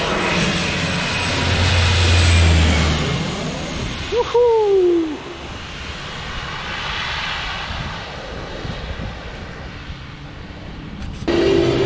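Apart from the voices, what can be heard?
jet airplane engine roaring at takeoff, Maho Beach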